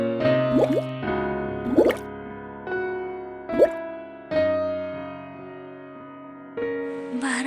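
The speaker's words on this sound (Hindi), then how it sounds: "महारानी चंद्रा धीरे धीरे करके पानी में उतरती है।" Cartoon water effects play as a queen steps slowly into a river: a series of hollow plops and splashes spaced apart over a sustained musical drone, with no talking.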